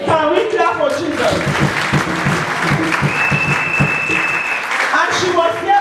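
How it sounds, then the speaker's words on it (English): Congregation clapping in church, a steady loud wash of applause with cheering voices mixed in throughout. "Can we clap for Jesus?"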